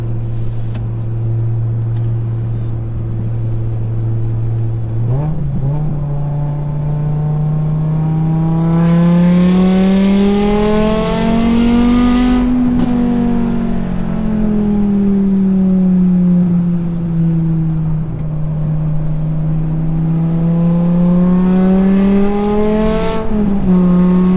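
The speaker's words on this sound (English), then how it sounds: "Exhaust is just so sharp sounding." A BMW M5 E60 V10 revs up and down through its exhaust, a sharp, loud wail that rises, dips and climbs again several times.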